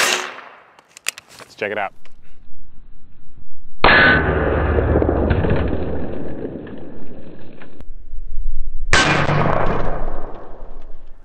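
A 10.3-inch Daniel Defense rifle firing 115-grain 300 Blackout rounds at a Level IIIA special threat ballistic mini shield, with three loud, sharp, ringing reports spaced several seconds apart and a brief spoken phrase near the start.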